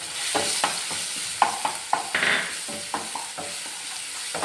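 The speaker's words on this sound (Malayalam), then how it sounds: "അതേ പാനിൽ തന്നെ നമ്മൾ ഒരു ടേബിൾ സ്പൂൺ വെളിച്ചെണ്ണയും കൂടി ഒഴിച്ച് കൊടുത്തിട്ടുണ്ട്" Crushed green chili, ginger and garlic sizzle in coconut oil in a pan, a steady frying hiss broken by repeated scraping strokes of a stirring spoon.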